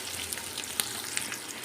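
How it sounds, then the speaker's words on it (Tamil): Sliced onions frying in oil for mutton biryani, a soft even sizzle with a few faint clicks, fairly quiet and brief with no talking. "வெங்காயம் நல்லா வதங்கட்டும்."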